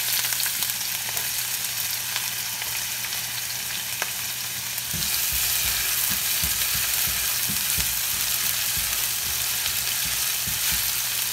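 Onion sautéing for ginisang ampalaya: a loud, steady sizzle that swells partway through, followed by a run of quick stirring scrapes and clacks in the pan, close up with no speech.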